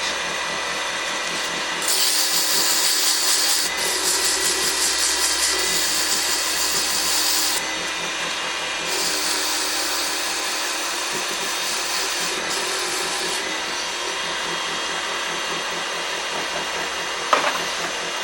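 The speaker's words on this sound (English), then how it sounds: "So let's real quickly sand it." Power sander working on a pecan wood box in a woodturning shop, a loud steady whirring drone with several surges as the tool is pressed and lifted, running alone without talk.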